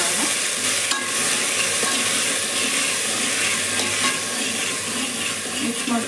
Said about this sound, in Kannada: ಹಾಕ್ಬಿಟ್ಟು ಚೆನ್ನಾಗಿ ಈ ಥರ ಮಿಕ್ಸ್ ಮಾಡ್ಕೊಳ್ಳೋಣ